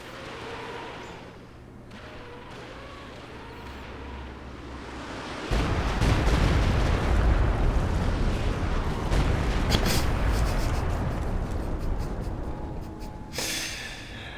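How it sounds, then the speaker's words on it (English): Stuka barrage explosions in the video game Company of Heroes 2 start after a quiet lead-in as heavy, booming blasts, followed by a sustained rumbling roll of detonations that fades and ends in a sharp burst. "So now we're going to test out the Stuka barrage, make sure it will indeed destroy a howitzer."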